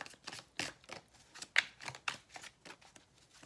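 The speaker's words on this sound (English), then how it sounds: "A little bit more shuffling on camera." Tarot cards are shuffled by hand in a quick, quiet series of soft riffling snaps and taps, close up and otherwise without sound.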